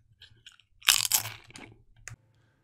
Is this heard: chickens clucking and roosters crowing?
no